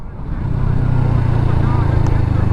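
A navy hovercraft with two fan engines on the coast at Dhanushkodi: a steady, fairly loud low droning hum, with people talking nearby.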